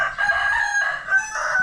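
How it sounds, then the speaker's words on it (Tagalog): Chickens crowing and clucking close by, one continuous warbling call with a brief dip partway through, lasting under two seconds with no voices. "Mga manok."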